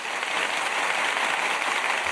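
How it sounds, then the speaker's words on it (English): An applause sound effect played during a stock market news livestream, a dense, even roar of many hands clapping at constant loudness with no voices over it. "Oh, clap. That's nice."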